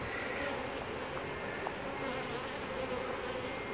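Honeybees buzz as a dense, continuous drone throughout, close and steady, while a hive is removed from underneath a trailer in Auburndale, Florida.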